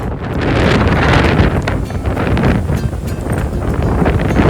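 Strong wind on the River Thames buffets and roars steadily, with gusty rumbling surges throughout and no voices.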